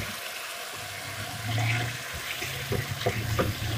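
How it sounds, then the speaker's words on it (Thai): Mushrooms tipped into a hot pan for stir-fried holy basil, giving a rushing splash that settles into crackling sizzle and scattered pops, close and moderately loud with no voices. "เทเห็ดที่เฮาเตรียมไว้ลงไฟนะจ๊ะ"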